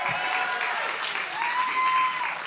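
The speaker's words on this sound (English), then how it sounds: "So give Manny a round of applause" An audience at the Seeds of Change: Power the Movement event applauds for Manny's four-year sobriety milestone, a steady wash of clapping across the whole stretch, with a thin sustained whistle-like tone running through it.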